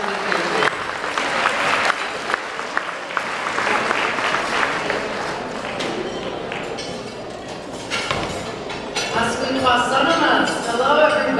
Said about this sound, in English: Can you all round of applause for Akeia?